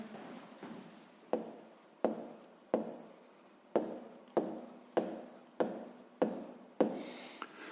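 Handwriting on paper during a fifth-grade maths exercise: close, dry scratching strokes in a steady rhythm, about ten repeated bursts each starting sharply and fading, with no talking.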